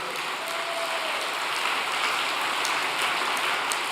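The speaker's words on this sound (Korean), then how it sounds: "감사의 박수를 올려주시기 바랍니다" An audience at a religious devotional gathering claps in a dense, continuous patter of applause that holds evenly for a few seconds with no voices over it.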